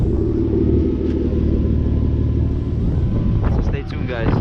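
Turbocharged Infiniti G37 engine rumbling steadily and loudly up close, a deep continuous drone with a brief rise in revs near the end.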